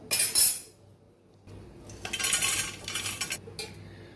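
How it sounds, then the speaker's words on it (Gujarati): Roasted puffed rice poured and scooped back into a bowl, a bright rustling clatter in short bursts with a quiet gap between them, close by with no talking. "આપણા મમરા સરસ શેકાઈ ગયા છે તો બાઉલની અંદર પાછા લઈ લેશું"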